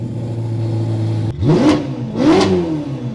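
A 2023 Ferrari Roma Mansory V8 idling loudly up close, then two sharp revs that rise and fall, each blip a sudden snarl over the steady low idle.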